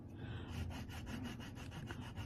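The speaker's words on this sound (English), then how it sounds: "earring upright and lightly sanding back and forth." A polymer clay earring is lightly sanded back and forth with P120 sandpaper, making quiet, rapid, rhythmic rasping strokes close up with no talking.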